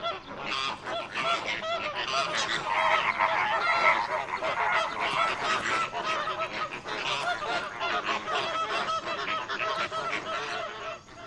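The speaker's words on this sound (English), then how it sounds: "In the shallow waters of the Okavango, flamingos appear like a bright pink streak on the deep blue background." A large flock of flamingos calls in the shallows of the Okavango, a dense, continuous chorus of honking, goose-like cries heard without a break.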